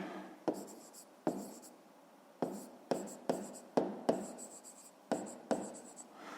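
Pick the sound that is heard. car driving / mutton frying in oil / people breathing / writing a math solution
writing a math solution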